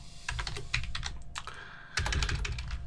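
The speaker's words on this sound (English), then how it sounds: "Not doing very well on typing today." Rapid clicking keystrokes on a computer keyboard come in quick uneven bursts, close and crisp, with a brief pause before the typing resumes.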